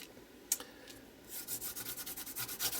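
A quick rubbing over a glued craft tag, a single tap followed by a rapid run of soft, close, rhythmic scrubbing strokes at low volume.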